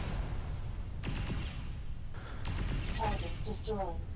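Base turrets in the MechWarrior Living Legends video game fire in several rapid bursts of distant gunfire over a steady background rumble, with faint voice chatter underneath.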